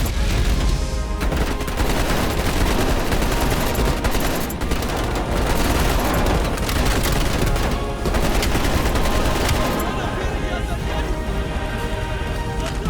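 Helicopter-mounted gunfire in Call of Duty Black Ops Cold War, loud continuous automatic bursts with explosions and rotor noise, and voices talk over the shooting.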